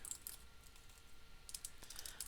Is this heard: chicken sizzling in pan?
no